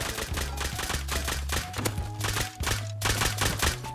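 Rapid bursts of gunfire from the Rust survival game, fitting double-barrel shotgun shots near a gas station, crack out repeatedly in a dense, loud sequence over steady game background noise, with no talk.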